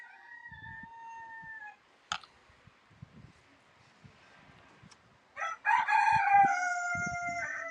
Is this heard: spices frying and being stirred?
no